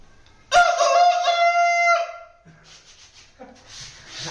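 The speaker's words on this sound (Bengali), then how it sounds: "পাখির শব্দ, পাখি।" A rooster crows once, loud and close, a long drawn-out cry followed by a few softer clucks and bird calls.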